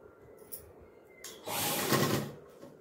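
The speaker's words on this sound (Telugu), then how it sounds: "కుట్టేటప్పుడు మాత్రం కొంచెము నెమ్మదిగా కుట్టాలండి, ఓపికతో కుట్టాలి" Sewing machine stitching slowly at home during tailoring work, a soft mechanical run that swells to a steady whir for about a second before easing off, fairly quiet with no talk.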